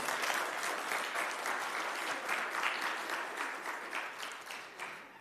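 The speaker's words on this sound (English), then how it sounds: "Can I please get a round of applause for all of you that made this event possible?" Steady applause from a Palm Sunday church audience fills the whole stretch, a dense wash of clapping that gradually tapers slightly toward the end.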